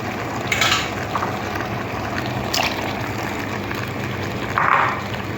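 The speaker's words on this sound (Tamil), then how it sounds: "கரைச்சி வச்சுருந்த மசாலாவை ஊற்றிடுவோம்." A dissolved masala mixture is poured into a pan of chicken curry, giving a steady close-up wash of liquid and sizzle with a few louder splashes.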